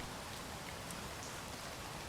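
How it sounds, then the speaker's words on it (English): Steady rain patters softly and evenly throughout in the video game Space Engineers, a faint continuous wash of drops with no voices. "It's sunny but it's rainy."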